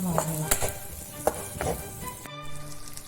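Chopped tomato hitting and stirring in a hot pan while chicken curry is cooked, soft sizzling with a few scraping stirs of a spoon, close and alone.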